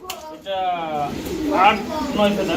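Blue bar pigeons coo softly in short throaty bursts while a person talks close by.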